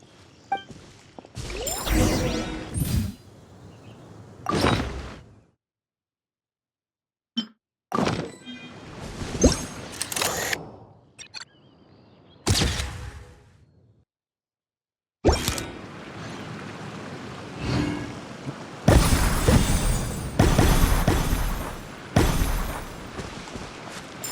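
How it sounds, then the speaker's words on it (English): Fireworks burst in the Genshin Impact video game as a string of sharp thumping blasts and crackling bursts. They come in irregular clusters separated by short silent gaps, and the final stretch is louder and denser. "Fireworks!"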